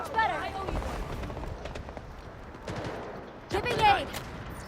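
Gunfire in the video game Delta Force, bursts of shots in a busy firefight, loudest near the start and again near the end, with players talking over the action.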